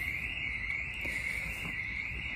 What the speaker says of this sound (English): The police are joining me, as you can hear, or a car alarm perhaps.